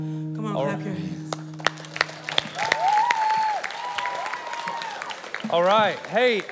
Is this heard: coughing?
no